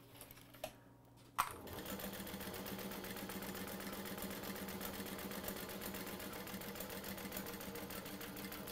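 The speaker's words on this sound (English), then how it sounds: "that is sewing the lining down" A sewing machine stitches down the lining of a fabric bag, starting after a brief click and then running as a steady, continuous mechanical whir at moderate volume.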